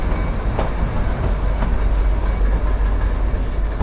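The Shimla-Kalka toy train running just after leaving Shimla station, a loud, steady rumble of the rolling carriage with rhythmic wheel clatter and occasional faint squeals.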